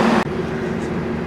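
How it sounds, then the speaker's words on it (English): Arriva Trains Wales class 158 diesel unit 158838 bound for Telford, heard close by as a steady engine drone and rail rumble, with a sharp cut shortly after the start. "That's my train going back to Telford"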